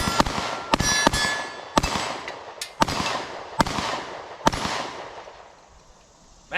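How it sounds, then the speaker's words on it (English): Sharp pistol shots from an S&W Shield Plus in 30 Super Carry striking steel targets, six or so evenly spaced cracks each followed by a bright metallic ring, fairly close, with no talking. "I'm just gonna ring some steel, play around with it, mainly just because I like shooting this little thing."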